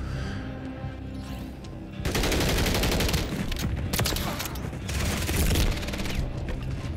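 Sustained rapid gunfire from a BAS-B rifle fitted with the JAK Outlaw kit in a video game: loud, dense shots that start abruptly after a quieter stretch and then continue steadily at close range.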